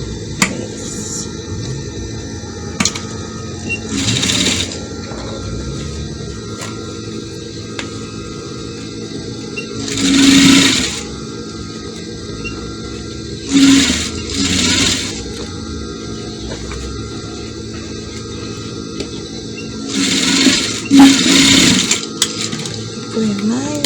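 A sewing machine stitches African fabric for a hair bonnet in short bursts of whirring, several separate runs of a few seconds each with quiet pauses between them, under occasional soft talk.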